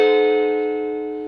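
A single diminished chord strummed on a guitar and left to ring out, sustained and slowly decaying on its own.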